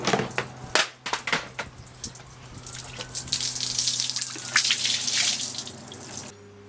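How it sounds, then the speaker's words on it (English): Running tap water splashes over a table being rinsed, with irregular splashes and drips against a steady flow, close and fairly loud, ending abruptly. "And before the wife finds out, I better rinse the table."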